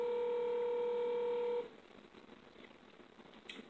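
A telephone tone sounds steadily for about a second and a half, loud and clear, then cuts off, leaving faint line noise behind during a prank call.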